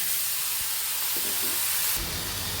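Taro leaves go into hot oil seasoned with panch phoron, cumin and ginger, setting off a loud, steady sizzle and hiss that swells sharply near the end as the leaves hit the pan.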